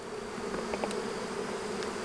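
Honey bees hum around a strong colony's hive during a honey flow, a steady close buzzing drone with individual bees zipping past.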